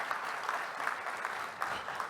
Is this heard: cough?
no